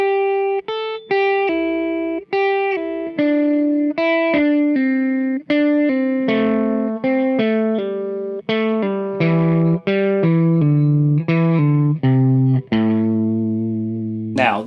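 Electric guitar playing slow pull-offs from the ring finger to the pointer finger, each picked note dropping to a lower one, stepping steadily down in a clear, distorted tone with no talking.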